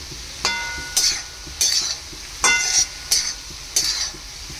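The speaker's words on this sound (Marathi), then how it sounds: "झाकण काढून बघूयात आणि पुन्हा एकदा त्याला परतून घ्यायचं आहे" Cabbage bhaji is stir-fried in a pan with sharp, evenly spaced scraping strokes, about six, over a low sizzle. The sound is close, with no talk.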